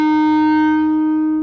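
A single sustained saxophone or clarinet note with an accented surge of air sounds close and steady, holding for over a second before gently tapering off.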